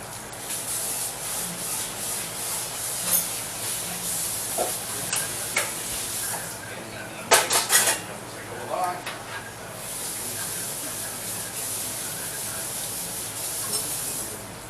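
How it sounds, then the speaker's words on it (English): Potatoes hit a hot skillet with a steady broadband sizzle, and a few sharper crackling bursts flare up partway through as the pieces settle and spit. "And you're just going to put them in the skillet."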